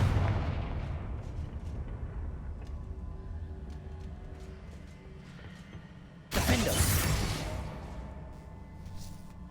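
Confringo fire spell blasting in Hogwarts Legacy, one sharp loud explosive burst partway through over a steady rumbling game soundscape, followed by a crackling, decaying tail.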